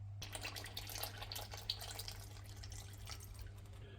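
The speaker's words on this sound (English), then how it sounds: "I can get to our sump nut, so we can crack that off and drain the oil" Engine oil draining from the sump of a VW T6 van, a steady liquid trickle with splashing drips into a container, close and continuous over a low background hum.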